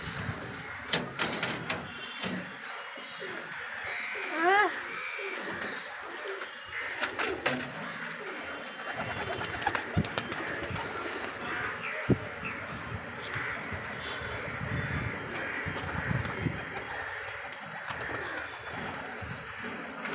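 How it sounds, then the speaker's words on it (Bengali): Pigeons coo over a steady outdoor din while the flock takes off, with soft fluttering wingbeats and scattered clattering bumps running through the whole stretch. "ওরা উঠছে কীরকম পায়রাগুলো"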